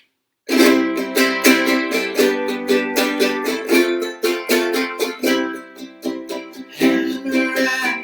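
A son jarocho rendition of the traditional song El Pajarocu with new lyrics and a harmonic shift, played as a loud, continuous, rhythmic strummed-string ensemble that starts abruptly and keeps up a steady driving pulse throughout.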